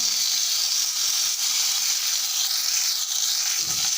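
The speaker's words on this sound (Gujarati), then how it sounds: "હવે ટામેટાં એડ કરીશું." Steady frying hiss as tomatoes go into a hot pan of masoor dal with garlic, a bright, even sizzle held close and constant, with a brief low stir or clunk near the end.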